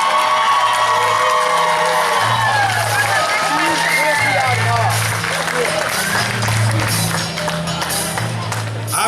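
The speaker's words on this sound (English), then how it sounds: "let's get a big round of applause for your 2017 Monroe Area High School football team and Coach Reach" Crowd cheering and applauding at the 2017 Monroe Area High School pep rally for the football team and coach, loud and sustained, with shouting voices and a low engine rumble running beneath.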